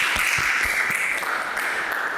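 Students in a classroom applaud one another, a steady, moderately loud patter of many hands that holds evenly for a couple of seconds, with a few heavier claps near the start.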